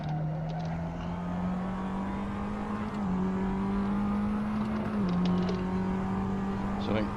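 A race car in a racing video game at Silverstone, engine tone steady then dipping as it brakes and shifts around 3 and 5 seconds, a loud continuous drone.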